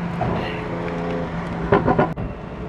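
A Toyota Supra fitted with an FI full exhaust, intake, downpipe and tune idles with a deep burbling drone, then gives a brief throaty rev followed by a sharp crack.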